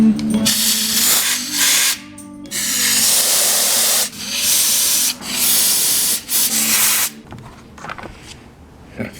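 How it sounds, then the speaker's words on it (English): WD-40 sprayed onto engine parts of a 4.3L GMC Jimmy engine during a build, loud close hissing bursts of varying length with short pauses between them. "Just a little bit of WD-40 just so it won't get surface rust"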